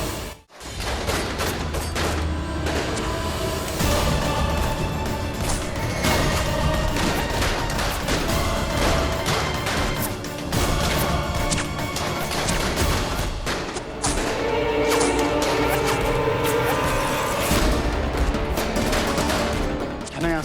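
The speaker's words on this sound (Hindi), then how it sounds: "जो भी हम पे गोलियां चला रहा है उसने जरूर हमें देख लिया।" Dense, continuous bursts of gunfire crackle and boom throughout, loud and chaotic, like a sustained firefight close by.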